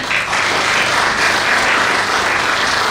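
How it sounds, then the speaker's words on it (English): Audience at an industry leaders summit breaking into steady, full applause, a dense wash of clapping throughout without talk. "Ladies and gentlemen, please join me in applauding their contribution."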